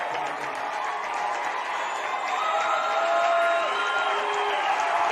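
A large crowd at a high school baseball championship game between American Fork and Skyridge cheers and applauds in a sustained, dense roar that swells slightly toward the end, with a voice faintly mixed in.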